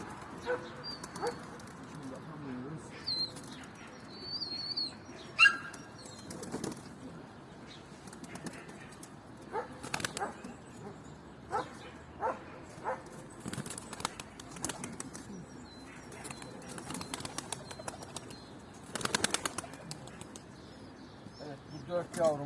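Young pigeons flap their wings in bursts of short, sharp flutters after release, some near and some farther off. A dog barks and whimpers now and then, and people talk faintly in the background.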